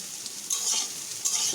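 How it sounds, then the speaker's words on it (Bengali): Onions and figs sizzle and are stirred in a pan, a steady close hiss of frying that swells in two bursts as the spatula moves, with no voices. "এগুলোকে আরও একটুক্ষণ ভালোভাবে ভেজে নেব"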